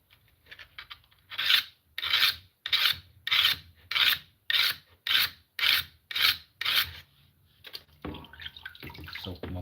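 A blade edge is stroked across the 200 grit side of a soaked whetstone in about ten even, rhythmic rasping passes, close and clear, then a brief scuffle of handling sounds.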